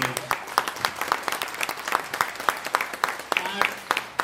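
Audience applause at a motivational talk: dense, sustained clapping from a large crowd, steady and fairly loud throughout with no pause.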